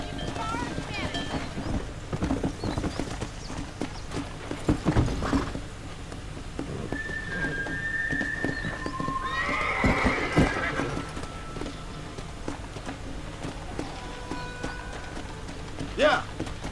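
Horses being ridden while herding cattle in Red Dead Redemption: steady clip-clop hooves with a neigh and occasional whinnies, some wind, and voices talking over the scene.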